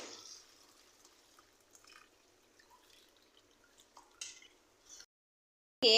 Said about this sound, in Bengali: পর যেটা করতে হবে স্ট্রেনারের সাহায্যে ছেঁকে নিতে হবে